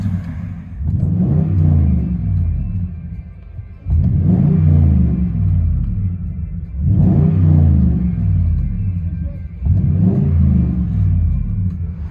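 A Toyota Tundra with a 5.7L V8 and aftermarket exhaust revs four times, heard from inside the cab; each deep, rumbling rev swells and falls back to idle in a steady, loud rhythm.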